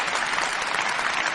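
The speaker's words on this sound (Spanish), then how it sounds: "¡Aplausos!" An audience bursts into dense, continuous clapping, a brief, full wash of many hands heard close and loud for just over a second.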